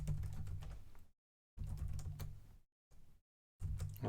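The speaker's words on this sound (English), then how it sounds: "Let me just type what I was saying." Rapid clattering keystrokes on a computer keyboard come in several close bursts, separated by short silent pauses, with no voices.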